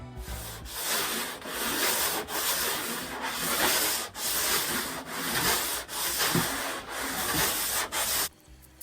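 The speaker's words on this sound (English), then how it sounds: "So I just finished sanding the bottom and the deck" Steady, continuous abrasive rubbing of hand sanding across a fiberglass surfboard, with brief pauses between strokes, close and fairly loud, then stopping abruptly near the end.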